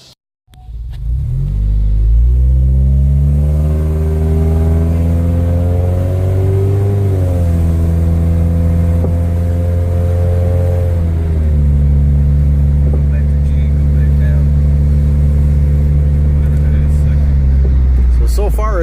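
A car pulls away on a test drive, its engine note loud and close, climbing in pitch as it accelerates, easing briefly, then rising and holding at a steady cruise.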